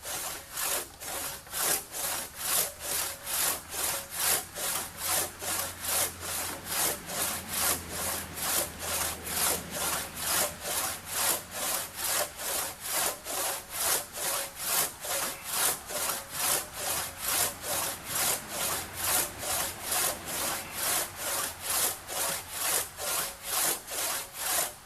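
A one-man crosscut saw cutting through tree branches in long, steady back-and-forth strokes, each a rasping pass through the wood, repeating evenly at close range for the whole stretch with no talking.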